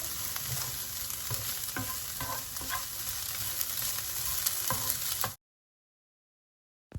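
Steady sizzle of kachki dried fish frying in a pan, with occasional scrapes of stirring, then it cuts to silence near the end.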